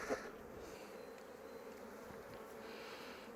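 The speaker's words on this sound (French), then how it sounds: "Voilà typiquement donc une colonie en train de devenir bourdonneuse avec reine." A honeybee colony with a queen, turning drone-laying, gives off a continuous, even buzzing hum from many bees close by, with a slightly louder swell at the very start and no talking.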